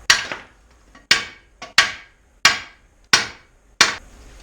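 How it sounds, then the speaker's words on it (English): Hammer blows on the lower control arm of a 1992 Chevrolet S10 Blazer during a front suspension rebuild, about seven sharp metallic strikes in a steady rhythm, close and loud with short ringing decays. "I'm making sure I'm not hammering on the lip of the control arm"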